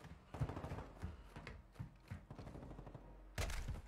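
A decoy grenade in a video game mimics gunfire, giving off irregular bursts of muffled, distant-sounding shots with a louder burst near the end, over low background rumble.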